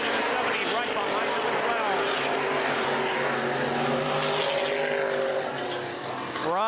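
Open wheel modified race cars roaring around Baer Field Speedway, a dense wall of engine noise with rising and falling pitch as several cars pass, under constant announcer commentary.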